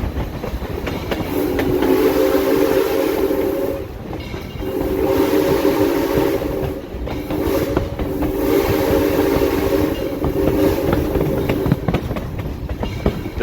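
Steam locomotive 630 pulls the Missionary Ridge Local excursion train in Chattanooga with a loud, close, rhythmic chuffing roar. The sound comes in repeated surges with short dips between them, and wheel and car noise runs steadily underneath.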